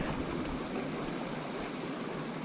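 White water rushes steadily down a creek, a dense, continuous broadband roar that stays close and even throughout, with no voices.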